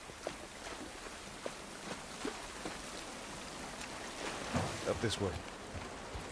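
Steady rain pours down outdoors in The Last of Us Part 1, a broad hiss with scattered drops and footsteps, while a voice speaks briefly over it.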